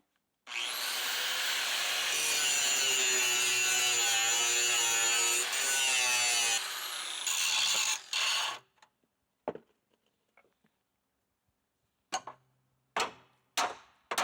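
Grinding on a 1976 Ford F100 under restoration: a long, loud, steady abrasive whine runs for about eight seconds with shifting pitch, then cuts off, followed by a few short scraping bursts and clanks.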